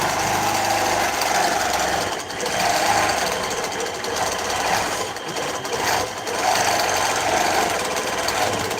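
A longarm quilting machine stitches steadily and close by, its continuous mechanical hum and rapid needle chatter running throughout with slight swells and dips, no voices over it.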